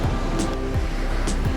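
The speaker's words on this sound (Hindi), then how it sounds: "क्या लहरें हैं भाई, यहाँ पे" Strong sea waves surge and crash against the rocks at Ram Setu, a continuous loud roar of surf with wind buffeting the microphone and a few heavier breaking swells.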